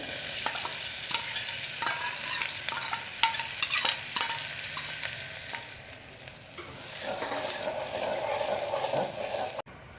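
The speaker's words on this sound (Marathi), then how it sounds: "आता या तेलामध्ये सर्वप्रथम हे दोन छोटे कांदे घेतलेले आहेत बारीक चिरून ते आता आपण ह्याच्यात परतून घेणार आहोत" Two small, finely chopped onions sauté in hot oil in a pan, with a loud continuous sizzle and scraping stirs throughout. The hiss dips briefly midway, swells again, and cuts off abruptly near the end.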